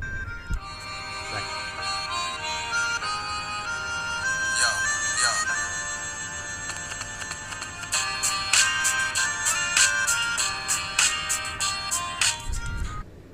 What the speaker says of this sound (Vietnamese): cái loa ngoài của con máy này, tại vì con máy này loa ngoài nó rất là lớn.